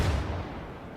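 A 120mm main cannon fires from a vehicle in a video game, producing a single deep, booming blast that decays into a low rumble and fills the whole second.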